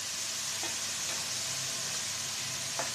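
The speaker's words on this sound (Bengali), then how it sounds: "নারকেল আর চিনির মিশ্রণটা ঢেলে দেবো আমি কড়াইটা একটু গরম করে নিয়েছি" A coconut and sugar mixture is poured into a hot wok, producing a soft, steady sizzle and hiss with a few faint scraping taps close by and no talking.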